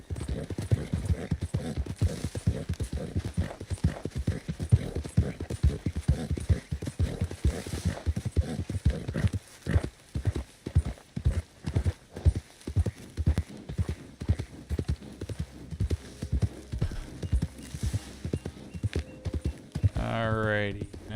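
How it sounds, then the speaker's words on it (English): Horse hooves in Red Dead Redemption 2 clop steadily on the ground in a quick, even rhythm, then slow to spaced single steps, with a whinny near the end and someone talking over the sounds. "now we're gonna go ahead and park the horse"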